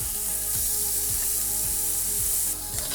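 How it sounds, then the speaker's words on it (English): Seasoned shrimp fry in an oiled pan, giving a loud, continuous close sizzle with soft rhythmic low thumps and scrapes, no talking. "Once we put it in the pan, we're gonna flip it over and season the other side."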